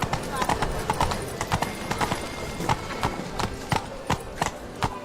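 Geralt's horse Roach trotting in a video game, with crisp, evenly spaced clip-clop hoofbeats close up; a voice talks over the steady rhythm.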